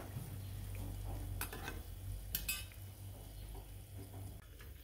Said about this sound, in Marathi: आपण जे पनीर घेतलेलं आहे ते तेलामध्ये तळून घेणार आहोत.